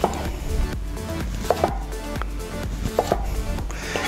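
A knife cuts thick slices of sweet potato on a board with a series of firm, close thunks at irregular intervals, each one crisp against a low background hum.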